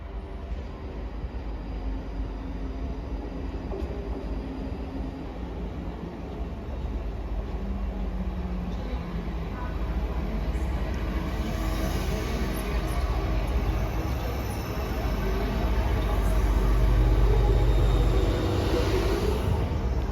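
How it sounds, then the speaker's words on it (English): A ScotRail Class 170 diesel unit, 170-470, arrives at Haymarket station in Edinburgh on its run from Perth. A continuous low rumble builds and swells near the end. No voices are heard. "arriving now is the 1553 ScotRail service from Perth to Edinburgh Waverley"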